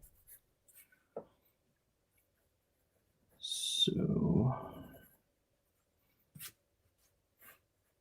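A pencil sketches an under drawing on paper: quiet, scattered scratchy strokes with one longer, louder stretch of rubbing and scribbling in the middle, close and otherwise near silent.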